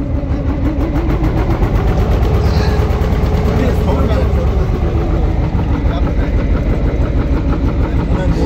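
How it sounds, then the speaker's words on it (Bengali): A trawler boat's diesel engine drones steadily and loudly throughout at sea in the Sundarbans, with a low throbbing rumble and wind or water noise, voices faintly mixed in. "আমাদের বেলায়েত সর্দার আজকে ট্রলার চালাবেন"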